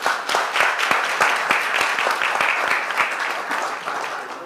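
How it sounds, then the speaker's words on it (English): An audience at a civil rights commission commemoration event applauds, producing a dense, steady wash of many hands clapping that holds at a strong level throughout and fades slightly at the end. "Let's give a round of applause for Mr."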